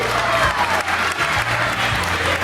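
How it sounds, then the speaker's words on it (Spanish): Crowd applause at the finish of a children's running race at L'Atalaya, dense continuous clapping with a few cheers, fairly close and steady throughout. "Un aplauso, que yo lo único que es gratis, hombre, aplaudir"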